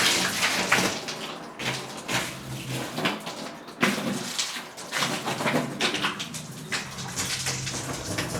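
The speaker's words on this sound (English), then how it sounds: "Our first look at the tank getting some water. Filling it up." A hose fills a 900-gallon aquarium tank with water, a continuous rushing splash that surges and dips unevenly, with faint outdoor background sounds and no talking.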